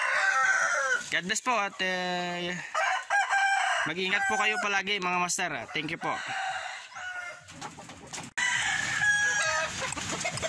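Chickens cluck and a rooster crows repeatedly at a free-range yard, close and loud, overlapping with someone talking and laughing.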